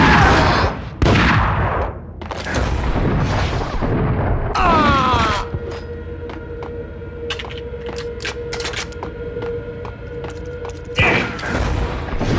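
Gunfire from the video game Max Payne: heavy booming shots and bursts, then a sustained rattling barrage with mechanical clatter, loud and close, with a short shouted voice near the start.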